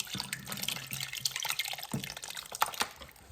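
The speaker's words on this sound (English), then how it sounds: "Now it's all whisked together. I'm going to pour it on top of the chicken." A whisked gravy mixture is poured over chicken in a Ninja Foodi Possible Cooker Pro, a faint close splashing and dripping patter lasting a few seconds with no talk.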